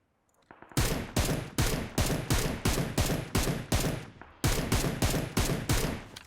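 Gunfire in the battle game PUBG Mobile set in a snowy valley, a steady string of about a dozen loud, close shots with a brief break midway, alone with no talk.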